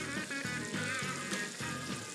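Steady crackling sizzle of bacon frying in a pan, continuous and fairly loud, with faint low background sounds underneath.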